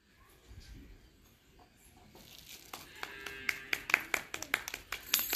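Clapping at a children's day celebration: after a quiet start, a run of sharp, irregular hand claps builds to a dozen or so quick claps near the end, fairly close.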